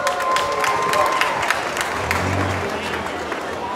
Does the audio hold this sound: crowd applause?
yes